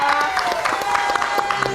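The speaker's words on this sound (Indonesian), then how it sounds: "Kita tepuk tangan lagi dong buat Riana" Studio audience applause for the performer Riana on an Indonesian TV variety show, a short burst of steady clapping mixed with voices talking over it.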